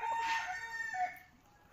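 A rooster crows once at moderate distance on a silkie chicken farm, a short rising call that fades away, with no talking.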